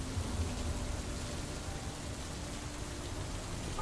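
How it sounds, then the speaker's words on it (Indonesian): Heavy rain pours steadily as a dense, continuous hiss at low volume, unbroken from start to finish, with no talk. "mereka diguyur hujan, deras banget"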